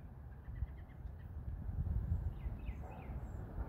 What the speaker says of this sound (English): I hear a lot of birds and squirrels in the background making noise.